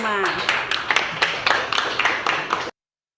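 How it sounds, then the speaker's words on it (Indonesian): A group at a national teacher-training session applauds group 5, with a run of fairly close, uneven hand claps over background voices, ending abruptly. "tepuk tangan dong untuk kelompok 5"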